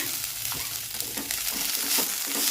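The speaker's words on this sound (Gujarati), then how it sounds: "ધીમા ગેસ ઉપર જ આપણે મિક્સ કરી અને ચડવા દેવાનું છે" Ridge gourd peel chutney is stirred in a pan over a low flame, giving a soft, continuous sizzle with faint scraping strokes from the spoon.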